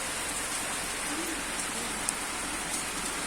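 Rain falls steadily outdoors, a continuous even hiss of drops on surfaces with a few faint distinct patters, loud and unbroken throughout.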